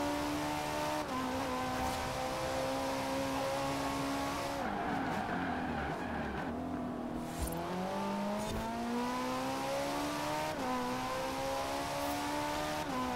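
Ferrari 458 Speciale with a naturally aspirated engine driven in Forza Horizon 4, its high-revving engine note climbing and dropping through gear changes, with brief tire squeal midway, loud and continuous throughout.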